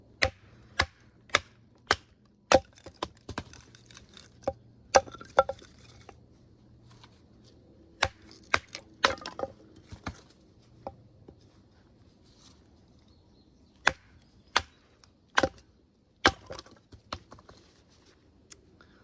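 A combat utility knife with a PVD coating chops a wood log into small pieces: sharp isolated knocks in irregular clusters, fairly quiet and close, with pauses between groups of strikes.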